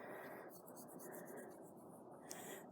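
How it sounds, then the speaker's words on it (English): Quiet, steady rubbing of an eraser across a written to-do list, a soft continuous scratchy swish with a small tap near the end, heard alone at close range. "I am going to erase the things that I've done"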